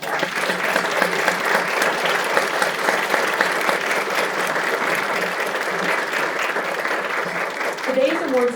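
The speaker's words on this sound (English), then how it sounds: "let's give our 2019 champions one more round of applause" Audience applause for the 2019 Champions in Women's Health at an awards ceremony, a steady dense wash of many hands clapping that stays loud and even throughout, with a voice starting briefly near the end.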